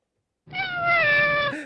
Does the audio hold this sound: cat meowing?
yes